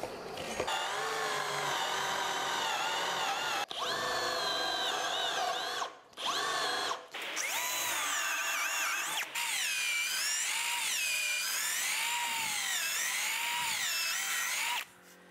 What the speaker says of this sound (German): wir bohren ja ungefähr 20 bis 30 cm tief